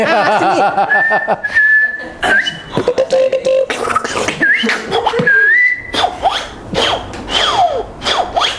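Close, shrill whistling made through the teeth, with sliding pitches and short melodic bursts, broken by brief pauses and breathy hisses, with no voices.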